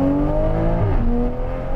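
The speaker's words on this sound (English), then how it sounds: "This is how an inline six should sound." An HKS Toyota A90 Supra's inline-six engine pulls hard in second gear, a loud close rasp with rising harmonics that shifts pitch near the end of the burst.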